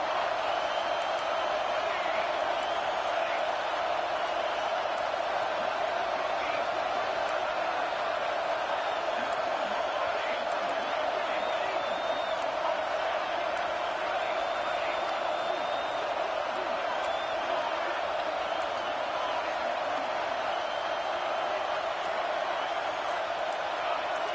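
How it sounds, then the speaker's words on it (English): A stadium crowd roars continuously in the NCAA 26 college football video game, LSU versus Clemson, a dense steady wash of cheering beneath a play-by-play commentary voice. "the crowd coming to life here, trying to help this defense down in the red zone"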